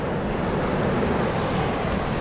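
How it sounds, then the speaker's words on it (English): Waves washing up on a beach at night, a continuous broad rushing surf close by with some wind noise, steady throughout and no voices. "I hear the water coming up."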